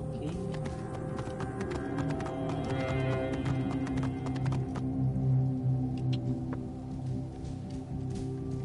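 Horse hooves clip-clop in a video game, in an irregular patter over a steady droning background, with occasional sharper taps, moderately loud and close.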